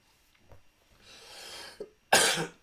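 A few soft coughs and a breathy throat-clearing, ending in one sharp, louder cough close to the microphone.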